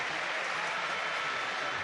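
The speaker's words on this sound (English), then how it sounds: "What a crowd." A huge stadium crowd of about 67,000 cheers and applauds at the FA Youth Cup final between Manchester United and Nottingham Forest, a dense, steady roar of clapping and voices that holds throughout without letting up.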